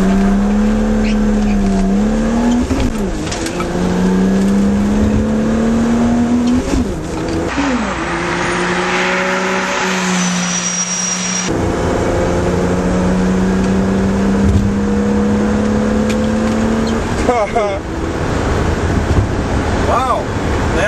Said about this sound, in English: that cold air intake system sure gives us the extra oomph we need, especially in a merge like that